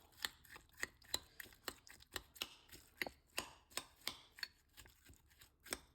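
Grilled meat with onions and spices is tossed and mixed in a bowl, giving a quiet run of regular clicking, scraping utensil taps at roughly two per second, close up and alone.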